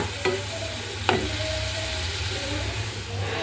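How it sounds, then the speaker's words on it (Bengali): Food fries in oil in a pan, a steady loud sizzle with a couple of brief clinks from stirring, no voices. "এখন আমি যে তেলের একটু একটু ভাজা ভাজা করে নিব"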